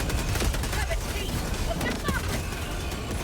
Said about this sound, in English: Bring the airstrike in, quick!